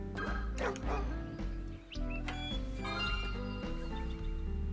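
Dog barking in the video game Lost Kingdoms 2: repeated yips and bow-wows over busy game music and effects, fairly loud and close.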